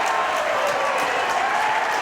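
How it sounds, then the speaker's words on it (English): A college men's soccer crowd at Creighton, hosting Cal State Northridge, cheers and applauds in a dense, loud, continuous roar throughout. "You can hear the crowd getting into it a little bit more here"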